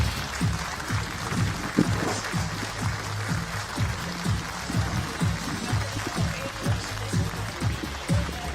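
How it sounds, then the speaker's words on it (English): Steady applause from an audience at an archery World Cup recurve final in Berlin, dense clapping running evenly throughout at moderate loudness. "please give a warm round of applause to our athletes"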